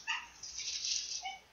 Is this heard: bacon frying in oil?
no